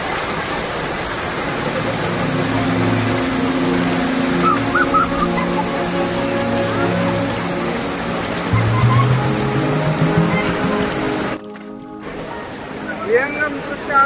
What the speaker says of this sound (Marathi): धबधब्याचा आवाज जोरात येत असल्यामुळे मला सुद्धा जोरजोऱ्यानं बोलावं लागतंय.